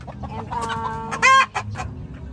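Rhode Island Red chickens, three hens and a rooster, cluck close by in a short run of calls, with one louder, drawn-out squawk near the middle before the sound settles down.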